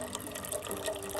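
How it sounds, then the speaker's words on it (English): Water squeezed from a Sawyer filter bottle into a container, a soft continuous trickling and splashing stream, quiet and close. "it depends on how hard I squeeze a bottle, how fast the flow comes out"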